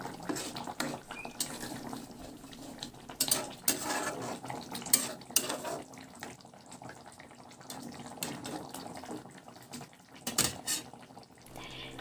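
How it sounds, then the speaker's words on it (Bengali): A spoon scrapes and clinks around a pot of Katla fish curry (Katla Kalia) being stirred, with soft irregular metallic taps and a low wet simmering bed, fairly quiet and close. "মাছের ঝোলটা এভাবে করে একটু ভালো করে নাড়াচাড়া করে নিচ্ছি"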